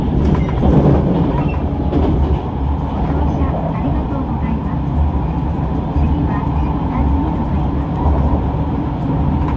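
Shiokaze Anpanman limited express, a tilting train, pulling out of Kojima station toward the Seto-Ohashi bridge; steady loud rumble of wheels on rail with a rolling clatter, constant throughout, with faint talk beneath.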